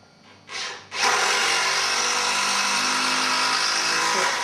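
A power drill driving screws into a wooden workbench frame, a brief whir, a short pause, then a loud sustained close-up drive.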